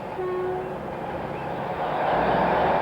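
A crowded passenger train on the old Cambrian Railway line through Wales moves off with a steady rumbling roar that swells toward the end, and a short tonal horn-like note sounds early on.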